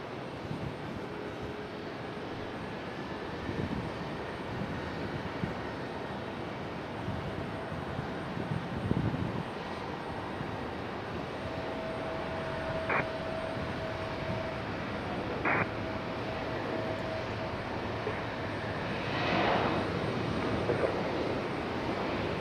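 A fixed-wing airplane at Raleigh Durham International Airport gives a steady, distant broadband engine roar with wind noise, rising slightly toward the end, alone without talk.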